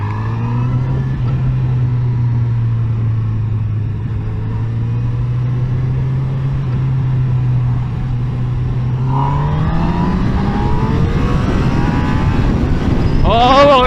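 Honda CB1000R Black Edition (2021) motorcycle on a test ride, its engine droning steadily at close range before rising revs and quick-shifter downshifts blip near the end, with voices present over the ride.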